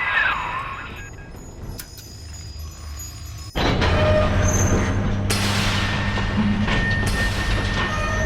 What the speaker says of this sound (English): Take the train to Ryan Amusements.